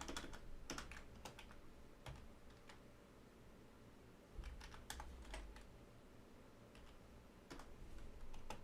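Quiet computer keyboard typing while someone writes C++ code for an Unreal Engine 5 inventory system: irregular bursts of sharp keystroke clicks with short pauses between, close and alone.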